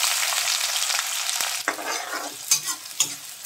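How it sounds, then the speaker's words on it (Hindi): Chopped onion and green chili hit hot oil in a kadhai with a loud, bright sizzle that eases off, then a few scraping stirs punctuate the fading hiss. "दोस्तों, तेल हमारा गर्म हो चुका है। इसमें हम प्याज और हरी मिर्च कटी हुई डाल देंगे।"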